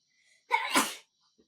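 A single loud, close sneeze bursts out sharply and fades within about half a second, with near silence around it.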